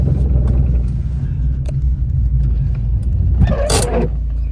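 Honda Civic EK hatchback pushing through snow toward a driveway, a low engine rumble running steadily close up, with a brief burst of rattling noise near the end.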